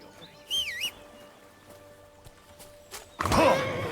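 Horse in the video game Kingdom Come: Deliverance, with a whinny, scattered hoof clops and a louder neigh near the end, amid faint bird chirps and game ambience.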